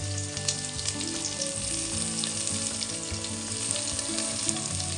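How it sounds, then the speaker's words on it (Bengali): Loud, continuous sizzling of carrots, chopped tomato and long beans frying in a hot pan, crackling steadily throughout with no talking. "সবগুলো ভালো করে ভাজা করে ভেজে নেব"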